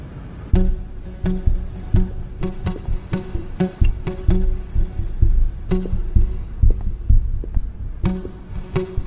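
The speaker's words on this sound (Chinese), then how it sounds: "人在紧张的时候会心跳加速。" A heartbeat sound effect in a Chinese television drama, with steady, deep, double-thump beats repeating over a low throbbing hum for several seconds, loud and with no talk over it.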